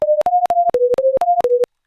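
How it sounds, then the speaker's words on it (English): Eight short synthetic sine tones generated with SoX software, each at a random pitch between 400 and 800 Hz, play in quick succession with brief gaps, loud and clean, with no voices. "We're going to generate a random tone, again, between 400 and 800 in the frequency here."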